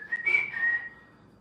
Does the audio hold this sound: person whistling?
yes